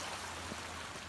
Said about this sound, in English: this is the stream that goes around my entire property, but it exits to the creek